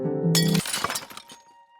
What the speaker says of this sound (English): Finally, the Water Crystal shatters